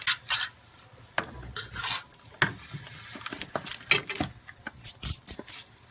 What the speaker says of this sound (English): So I'll just give that a stir.